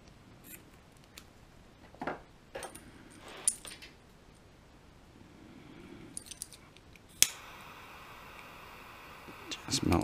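Scissors snip through a paracord strand end while a bullwhip is being made, a few sharp close cuts and small handling clicks scattered over quiet background.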